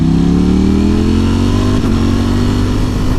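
A 2018 Ducati Panigale V4S motorcycle engine roars loud and close, its revs sliding downward before a quick gear shift midway, then pulling on steadily.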